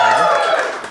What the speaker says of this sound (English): please applaud if you have seen an Innes Lloyd show before